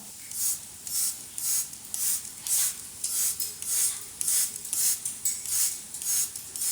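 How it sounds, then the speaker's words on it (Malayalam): A spray bottle mists water over indoor plants in a quick rhythmic series of about a dozen short, hissing squirts, each with a faint trigger click, close and alone without talk. "ഉള്ളിലുള്ള പ്ലാന്റ്സിനൊക്കെ ഒന്ന് വെള്ളം സ്പ്രേ ചെയ്ത് കൊടുക്കുന്നുണ്ട്"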